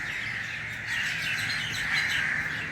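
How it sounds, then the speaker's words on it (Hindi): Birds call from a tree beside a family home, a brief cluster of chirps and squawks that sounds fairly close. It plays alone over faint background noise. "और आवाज़ सुने इन परिंदों की इसी दरख्त में है"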